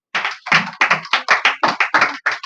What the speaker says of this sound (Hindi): जोरदार ताली जाए इसके लिए